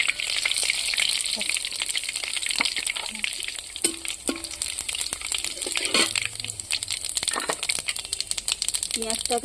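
Dry chilies, bay leaves and cumin seeds sizzle in hot oil as a tempering for nine-lentil navaratna dal, a bright crackling hiss dotted with sharp pops and spoon clicks throughout.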